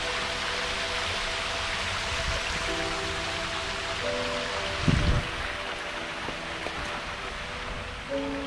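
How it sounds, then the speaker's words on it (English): Runoff from an aerial spring spills down as a small waterfall outdoors, a steady broadband rush of falling water with a brief louder splash midway and no talking. "Oh, look at the waterfall."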